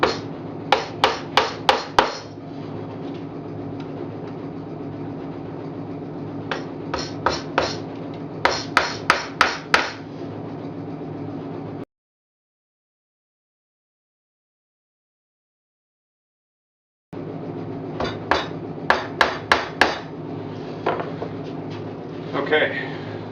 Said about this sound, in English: So I'm going to just start by nailing in these frame rests.